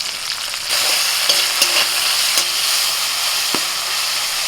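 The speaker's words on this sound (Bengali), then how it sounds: "টমেটোটা একটু ভেজে নিয়েছি কাঁচা গন্ধটা চলে গেছে" Tomatoes and green chilies fry with mustard seeds and dried red chilies in a hot pan, giving a steady, loud, dense sizzle. A few sharp spoon clicks sound through it, with no talking.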